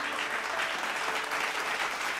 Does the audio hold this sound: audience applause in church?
yes